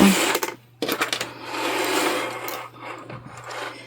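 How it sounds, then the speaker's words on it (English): Brief bursts of a sewing machine stitching fabric at a quarter-inch seam, close and moderately loud, starting and stopping in short runs with a faint steady hum beneath. "And I'm going to stitch at a 1/4 inch seam allowance."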